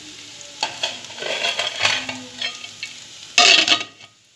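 Onions frying in a pan until browned for biryani, a crackling sizzle with scraping stirs, rising to a loud, brief surge of hissing near the end before fading.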